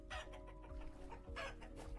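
Chickens cluck repeatedly in the farming survival game Vintage Story, with short rhythmic clucks close by and steady, clear, and no talking.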